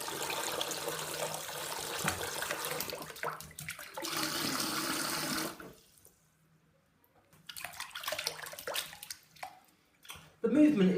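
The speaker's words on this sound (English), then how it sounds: "I'll just put a little bit more water in." Tap water pours and splashes into a shallow bath for an impacted bearded dragon, flowing steadily, then stopping, then resuming in short bursts with drips, all close by.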